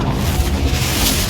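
A Confringo blasting spell goes off in Hogwarts Legacy as one short, dense, low boom filling the whole moment, loud and close, with no voices.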